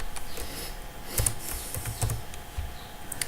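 Someone types on a computer keyboard, a quick series of close, sharp key clicks in irregular bursts over a quiet background.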